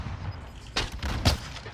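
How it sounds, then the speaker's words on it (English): Two sharp gunshot cracks ring out about half a second apart in a multiplayer shooter video game, fired from a hill, fairly distant and mid-loud over a low steady background hum. "Getting shot from the hill."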